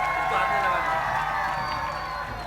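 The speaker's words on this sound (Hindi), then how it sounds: "ज़रा ज़ोरदार ताली अगर हो जाए" An audience at a mushaira applauds and cheers in a dense, sustained burst of clapping that slowly fades over a couple of seconds.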